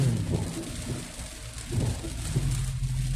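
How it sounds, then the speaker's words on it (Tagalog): Steady rain hisses across the whole clip during a vehicle ride toward Binondo, with a low rumbling underneath and no voices. "love ko talaga yung ulan."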